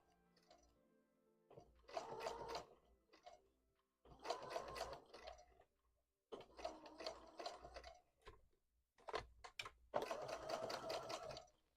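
A sewing machine stitching Pokemon hats runs in several bursts of rapid, steady mechanical whirring separated by short quiet pauses, close and clear with no talking.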